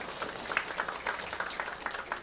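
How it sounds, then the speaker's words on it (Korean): A church congregation at a Korean Easter service applauds softly and steadily, a distant, fairly faint patter of many hands with no speech over it. "하나님께 영광의 박수 올려드리겠습니다"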